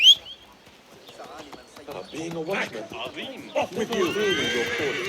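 A horse mount in the video game Assassin's Creed Mirage lets out a loud whinny at the start, followed by game ambience, footsteps and clip-clop sounds, with someone talking over it.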